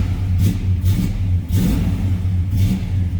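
A 1970 Chevrolet Monte Carlo's engine runs steadily while warming up, a loud, close low rumble with a few slight throttle swells and no talking.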